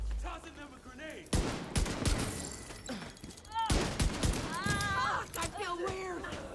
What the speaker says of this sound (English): Grenade out! Whoa! Yeah, tossing them a grenade.